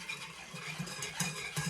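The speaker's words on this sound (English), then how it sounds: "I'll just keep mixing it till it is all mixed up and we see no clumps." A strawberry-coloured creatine gummy mixture being stirred: quiet, rhythmic soft thumps and scraping strokes about every fifth of a second, close by and alone.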